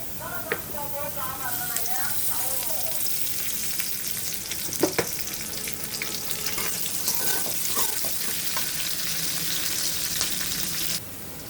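Onion, garlic and green chili fry in oil with a steady close sizzle and crackle, broken by a few stirring clinks; a voice speaks over the sound near the start.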